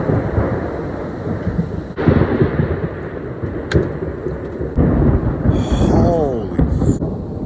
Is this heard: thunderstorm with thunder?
yes